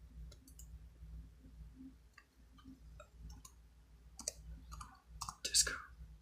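Computer mouse clicks while searching for disco sounds in FL Studio, a few sharp ticks scattered over a low steady hum, with louder clicks bunched near the end.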